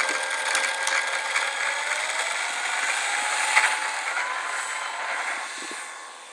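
Electric motor of a Dynam SU-26M radio-controlled aerobatic plane on its takeoff run, a steady high whine that rises slightly in pitch and holds fairly loud before easing off at the end, with no talking.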